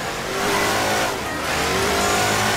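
A car engine in the Crackdown video game revs loudly and close for a couple of seconds, the pitch climbing in a continuous roar.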